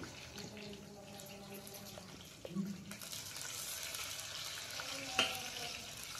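Green chillies and onion fry gently in a pan for pulao, a quiet steady sizzle with a few scrapes and clinks, a faint running-water tone in the background.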